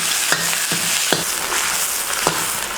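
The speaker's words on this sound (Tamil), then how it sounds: "எண்ணெய் சூடானதும் சிறிதளவு கருவேப்பிலை, அடுத்து நறுக்கி வச்சிருக்க பெரிய வெங்காயம் 200 கிராம்." Curry leaves and chopped big onions frying in 150 ml of hot oil, a steady loud sizzle with occasional stirring clicks for a mutton-liver curry.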